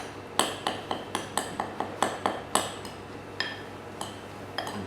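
Apples being stirred with sugar, cinnamon and lemon juice in a bowl for apple turnovers, a spoon clinking against the bowl in a steady run of about a dozen sharp, close taps.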